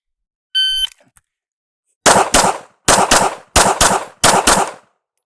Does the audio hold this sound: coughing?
no